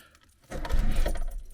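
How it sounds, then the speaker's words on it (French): Keys jangle and turn in the ignition of a Citroën BX, a short metallic rattle that rises abruptly after a quiet moment and carries on close by, with no talking. "Hop, on tourne les clés."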